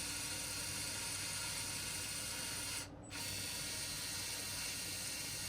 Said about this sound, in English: 2 linear actuators, and then our screw drive, worm drive